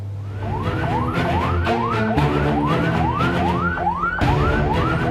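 An ambulance siren wails in a repeated rising sweep, loud and close, with an escort of riders accompanying it and a low engine rumble beneath the cycling tone.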